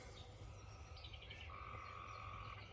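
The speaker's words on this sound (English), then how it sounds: "there's freaking frogs, man. I'm trying to talk." Frogs croak in a steady, faint outdoor chorus, with a sustained trilling call rising above the background noise in the second half and no one speaking.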